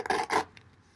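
A Kershaw Terran knife blade slicing through leather, two quick rasping strokes up close, then a faint scrape as it fades.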